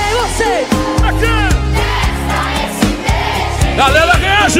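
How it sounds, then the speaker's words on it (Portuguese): A rodeo crowd at an expo in Paraíso cheers and whoops loudly over amplified music, with bursts of shouting voices and clapping blended into a dense, continuous roar. "Uma salva de palmas a ele, uma salva de palmas"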